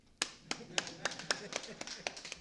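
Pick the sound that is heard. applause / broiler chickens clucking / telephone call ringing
applause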